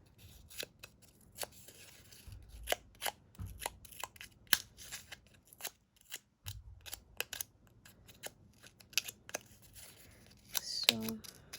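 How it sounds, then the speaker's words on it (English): Scissors snip repeatedly through paper, a quick series of crisp close cuts with irregular pauses and a little rustling of sheets in between. "you can also just use scissors for this."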